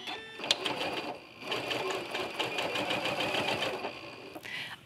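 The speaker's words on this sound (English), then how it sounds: "So once I've done one line of stitching, I'm going to go back and do the other side" A quilting sewing machine with a walking foot stitches a curved line, a fast steady mechanical chatter that runs continuously after a brief start, close and clear with no voices.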